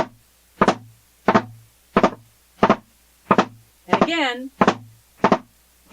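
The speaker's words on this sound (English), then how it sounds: "Now the next category is going to be the flam." Wooden drumsticks tap out a flam rudiment, with short sharp strikes repeating at an even pace and each hit preceded by a quieter grace note, sounding close and dry, plus one brief spoken phrase midway.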